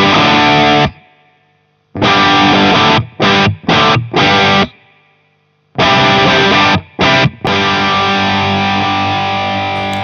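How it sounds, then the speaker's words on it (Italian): An electric guitar runs through a Marshall amp with the drive at half, giving thick, loud distorted chords in sustained blocks that are cut off by sharp stops and short gaps. "Sentite quanto è aumentata la distorsione?"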